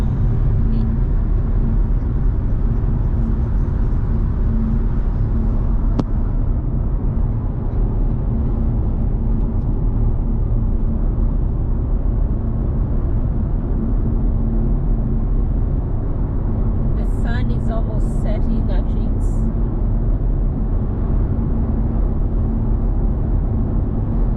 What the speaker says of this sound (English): So many trucks on this road.